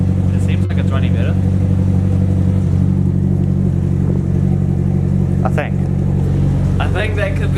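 A Nissan S14 idles loudly and steadily after a fuel pump replacement, a close, constant engine drone with a couple of faint clicks and brief background noises over it.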